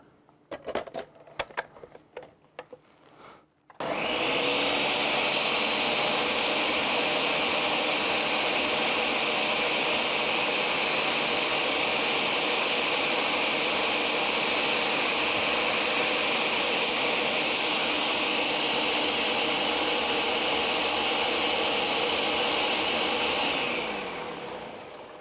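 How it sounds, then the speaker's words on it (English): An electric blender whirring loudly and steadily for about twenty seconds as it mixes a ranch dip, starting after some brief clattering and winding down at the end. "And then I'm going to give it another go in the blender."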